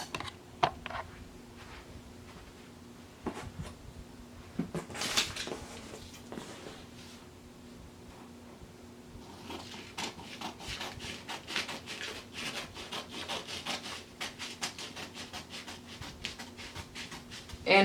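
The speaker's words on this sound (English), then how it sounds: "take our scissors and cut it out" Fabric being cut out along a bonnet pattern with scissors, a run of soft, rapid snipping and rustling close by at a low level, with a few louder scrapes and handling thuds and no talking.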